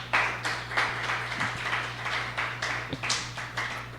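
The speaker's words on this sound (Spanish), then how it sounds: "¿Por qué no le da un aplauso al Señor?" Church congregation clapping in rhythmic, evenly spaced bursts, a moderate room-filling applause over a low steady hum, with no voices.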